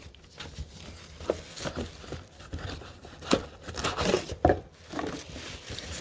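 Tissue paper crinkles and rustles as a Hamilton Beach Durathon iron is unboxed, with irregular close-up crackling bursts and a few louder crumples, no talking.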